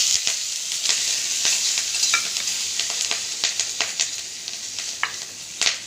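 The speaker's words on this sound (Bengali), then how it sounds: "এখন কাঁচা লঙ্কা আর কালো জিরে আর লবণটা দিয়ে দিচ্ছি" Green chillies, nigella seeds and salt fry in a little oil in a karai, giving a bright, even sizzle broken by sharp stirring clicks and scrapes. No one speaks.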